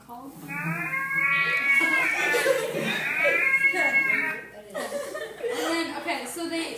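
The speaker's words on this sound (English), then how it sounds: "This is their long call." Seabird long call: a loud, drawn-out series of harmonic wailing cries, rising and falling over several seconds and close to the recorder, ending in shorter broken calls.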